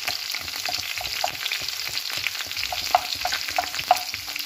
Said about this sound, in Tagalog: Mix po natin lalagay ay bawang.